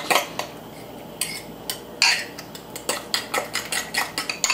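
Eggs and cheese being mixed for a cheese omelette, heard as uneven clinks and scrapes of a utensil against a bowl, speeding into a quicker run of taps toward the end.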